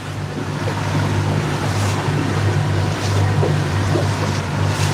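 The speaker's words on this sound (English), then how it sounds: "We're just boat riding" A motorboat cruises on open water on a sportfishing trip, its engine a steady low drone under constant hull splash and wind rush, loud and close, with no talking.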